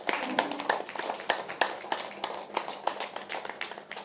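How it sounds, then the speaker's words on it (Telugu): An audience claps loudly and unevenly at a gathering, with sharp individual claps standing out in an irregular rhythm and a few voices faintly underneath. "గట్టిగా చప్పట్లు కొడదాం ఈ మాస్టర్స్కి"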